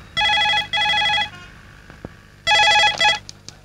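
Telephone ringing in a Telugu film scene: two quick electronic rings, a short pause, then another ringing burst, loud and clear.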